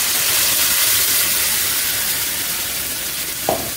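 Tomato puree made from three medium tomatoes hits a pan of fried cinnamon and cumin for kadhai paneer, giving a steady loud close sizzle and hiss that fades slightly, with a brief clink near the end.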